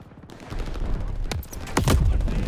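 Gunfire in the Call of Duty Vanguard video game: several sharp, loud shots cracking in quick succession against steady battle noise, with two prominent reports standing out near the middle and end.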